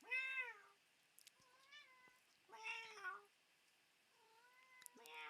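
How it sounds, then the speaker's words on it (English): Several domestic cats meow in turn, with drawn-out, rising and falling calls separated by short pauses. The calls are fairly close and clear, and no one speaks over them. "The cats always like talking to Jerry, too."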